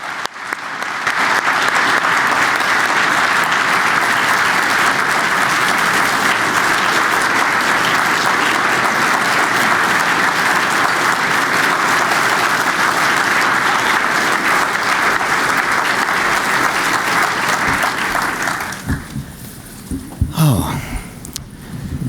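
A sustained burst of loud audience applause welcomes Judge Andrew Oldham to the Barbara K. Olson Memorial Lecture, dense steady clapping filling the hall for about eighteen seconds before tapering off into scattered claps and room noise.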